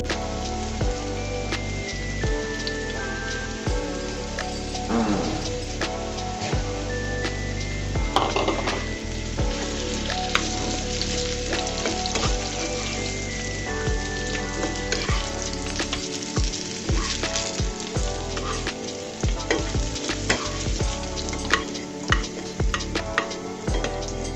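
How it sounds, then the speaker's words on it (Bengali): Potato pieces frying in hot oil as part of a fish curry with gourd leaves, a dense continuous sizzle with crackles and occasional stirring clinks, steady and close, with no talking. "আলুটাকেও আমি ভেজে নিচ্ছি বন্ধুরা।"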